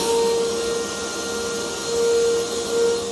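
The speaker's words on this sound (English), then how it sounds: "So can I plug in the vacuum like in the wall now?" A vacuum cleaner plugged into the wall of a floating tiny house runs in a loud, steady drone with a high whining tone, swelling slightly now and then, close by and with no talking.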